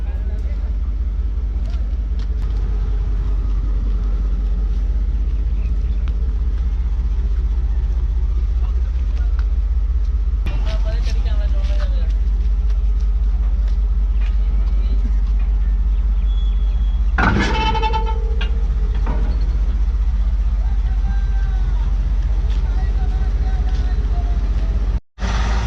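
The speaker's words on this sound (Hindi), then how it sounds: "तो ये लोकोमोटिव आप देख सकते हैं कि निकल के जा चुका है टर्न टेबल की तरफ" A railway locomotive in Sindh, Pakistan, rumbles steadily at a distance as it heads toward the turntable. Brief clanks and knocks break in now and then, and a voice talks over the low drone.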